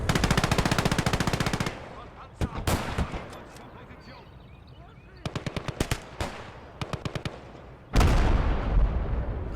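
Machine gun fire in the World War II game Gates of Hell: Ostfront, long rapid bursts alternating with single shots and short volleys, close and loud, ending in a heavy sustained burst with a deep boom, under a voice.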